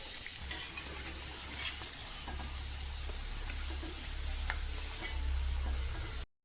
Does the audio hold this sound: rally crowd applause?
no